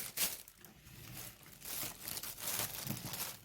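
A plastic freezer bag used for storing okra is handled and crinkled, giving irregular, soft rustling and crackling bursts close by with no talking.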